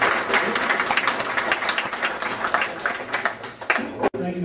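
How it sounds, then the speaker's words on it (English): A live audience applauds at a fundraising talk in Bradford, dense clapping filling the room steadily before tapering off abruptly near the end. "Please give Steve a big round of applause."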